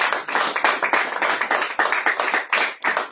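A church congregation at a Sunday service clapping in quick, steady rhythm, loud and close, with a lively crowd feel and no clear cheering voices standing out.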